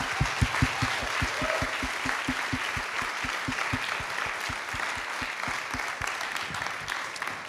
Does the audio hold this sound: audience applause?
yes